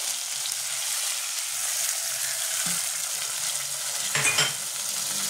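Ground spice paste and the water used to rinse it tipped into hot oil for a Hilsa curry, giving a steady broad sizzle with brief scraping clinks from a pan partway through.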